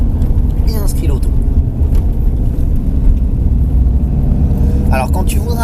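A car drives on a track during a performance driving course, its engine rumble steady and loud underneath an instructor talking throughout.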